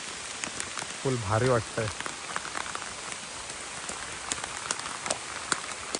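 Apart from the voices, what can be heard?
heavy rain falling in Konkan village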